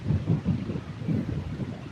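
Strong wind gusts buffet the microphone at a lake, producing low, rumbling pulses that swell and fade in irregular waves with no voices.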